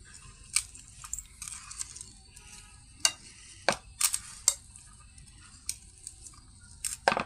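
Bhorta being worked together by hand with hot oil poured in, a close, soft, sticky squelching and mashing with scattered sharp wet clicks and a faint sizzling hiss underneath, no talking.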